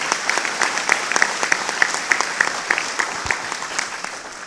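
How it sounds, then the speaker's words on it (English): A room of attendees at a safety recognition event applauding the venue staff, steady full clapping with sharp individual claps popping out, lively and close throughout. "if y'all give them a round of applause"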